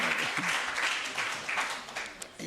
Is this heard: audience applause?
yes